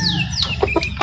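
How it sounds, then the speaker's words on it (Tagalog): Native labuyo chickens clucking while they wait for feed, giving several close, short clucks over a steady farmyard background with no talking. "magpapatuka muna mga idol kasi naghihintay na sila ng patuka"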